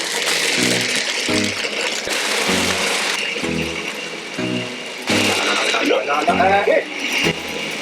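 An electric hand mixer whirs steadily through cake batter for several seconds, with a few brief pauses, under excited talking and shouting.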